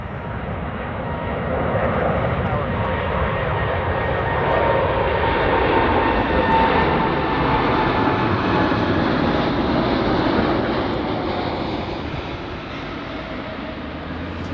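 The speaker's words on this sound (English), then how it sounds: "Let's get ready for our second 747 takeoff on runway 15." Boeing 747 taking off on runway 15 at Anchorage airport, a loud sustained jet engine roar that builds, holds steady and slowly eases off as the aircraft passes at a distance, with no voices.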